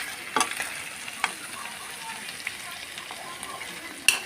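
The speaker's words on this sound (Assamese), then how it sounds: "ইয়াতে মই দিম কাটি থোৱা বিলাহীখিনি দি আকৌ এবাৰ লৰাম।" Chopped tomatoes being stirred into meat frying in a pan for an Assamese meat curry, a steady close sizzle with a few sharp scrapes of the spoon against the pan.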